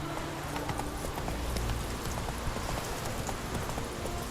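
Roach, the horse in The Witcher 3, trots with steady clip-clop hoofbeats against a dense background wash that sounds like rain, moderately loud and continuous, with no voices.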